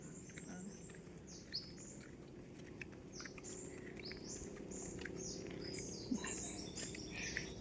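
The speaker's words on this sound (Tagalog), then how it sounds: "Mas maganda nga pakinggan yung tunog ng ibon eh." Small birds chirp and twitter repeatedly in rural countryside in Samar, quick high calls scattered over a faint background hum, fairly distant and soft.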